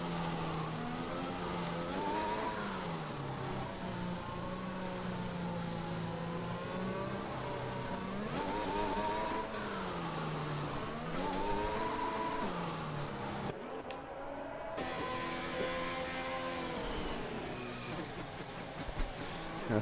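Race cars accelerate in a racing video game at a French circuit, with rising and falling engine tones layered together, loud and continuous throughout, with no talk.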